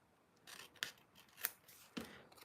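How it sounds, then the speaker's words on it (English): Scissors trim excess paper from a handmade crafted envelope, giving three or four short, crisp snips spaced about half a second apart, close and fairly quiet, with no talking. "I'll take my scissors and just trim that right off"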